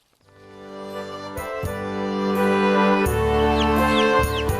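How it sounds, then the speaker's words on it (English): Chickens on a farm cluck in a steady, close, loud stream that builds over a few seconds, with brief higher chirps near the end. "Healthy chickens are beautiful and interesting little creatures."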